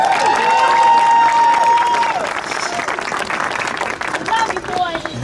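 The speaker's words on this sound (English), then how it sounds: "Can you give them a round of applause?" A crowd at a political event claps and cheers for a mayoral candidacy announcement, a loud blend of applause and shouts that swells, then continues more raggedly, with a sustained whistle-like tone at the start and voices mixed in.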